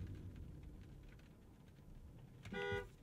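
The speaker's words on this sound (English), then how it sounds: "World famous horn test is up next." A Mercedes-Benz EQE sedan's horn gives one short, harsh honk near the end, after quiet cabin hum.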